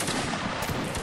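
Musket fire in a Napoleonic Wars line-battle game, a short dense crackle of overlapping shots sounding at close to mid range with no pause between reports.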